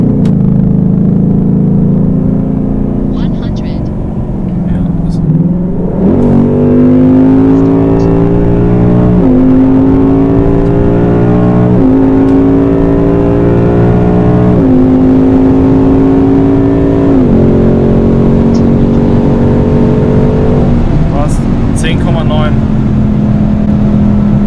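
A 2019 Ford Mustang GT with 450 hp and a 10-speed automatic accelerates hard from 100 to 200 km/h in track mode, its engine roaring and climbing through repeated upshifts, loud and close, with people talking over it.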